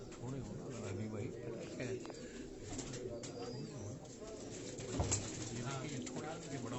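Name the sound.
pigeons cooing on a Karachi rooftop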